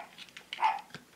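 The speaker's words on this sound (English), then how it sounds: "sorry, that's my dog." A dog indoors gives a short, fairly faint bark or yip, a single brief burst in an otherwise quiet room.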